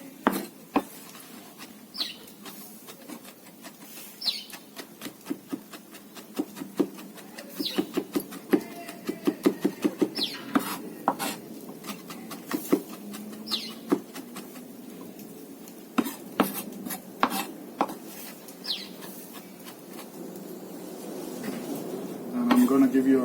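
Knife chopping parsley, garlic and chilies on a board while making lamb and chicken kebabs: a quick series of light, sharp taps in uneven bursts, close by, with some kitchen clatter and a person talking over it.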